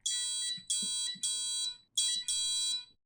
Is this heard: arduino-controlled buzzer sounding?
yes